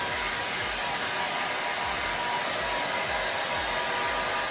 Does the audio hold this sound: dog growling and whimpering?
no